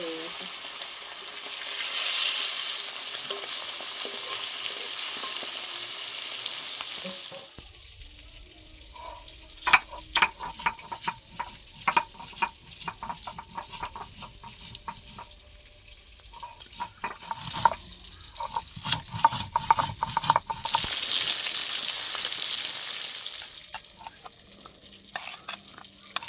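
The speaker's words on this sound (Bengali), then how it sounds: "বাকি মাছগুলো একই রকমভাবে ভেজে নেব" Hilsa fish pieces fry in a little oil, a steady close sizzle with bursts of stirring and spatula scrapes against the pan; it continues alone, with no voices.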